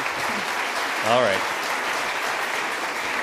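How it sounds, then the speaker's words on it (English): An audience at a political party leadership debate gives a steady, dense round of applause that runs the whole time, with someone briefly speaking over it partway through. "give him a round of applause, everybody"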